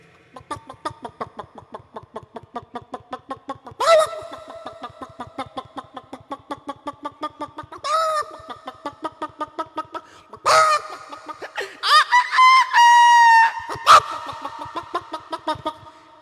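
A human voice mimics poultry with a steady run of rhythmic hen clucks, broken by several drawn-out rooster-like crows and squawks.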